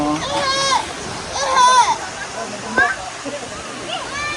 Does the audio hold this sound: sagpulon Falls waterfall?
yes